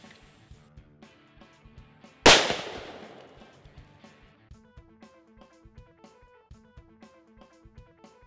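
A single sharp, loud gunshot from a .50 cal Desert Eagle pistol fired into a stacked, halved fruitcake, with a bright crack that rings out and fades, over a quiet rhythmic music bed.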